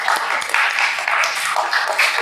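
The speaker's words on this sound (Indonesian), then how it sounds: "Tepuk tangan dulu buat Alin." Classroom of students applauding a classmate, a brief burst of brisk, close, overlapping hand clapping from a small group.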